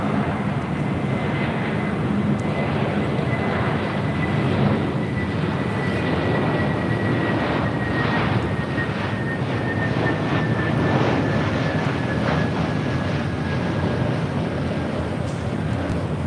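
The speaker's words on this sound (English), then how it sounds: "This A321neo, just 1 year old, delivered to Delta in November of 2022." A year-old Delta Airbus A321neo jet at LAX gives a steady, loud engine roar with a faint whining tone, broadband and continuous throughout, with no talk over it.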